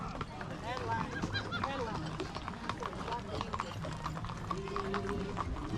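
Small ponies' hooves clip-clop in a quick irregular rhythm close by, under steady talk from several people, with a goose or similar fowl honking now and then.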